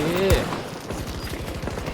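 Automatic AC42 rifle fire in the shooter game Battlefield 2042, a rapid dense burst of shots at close range over game noise, with a player talking over it.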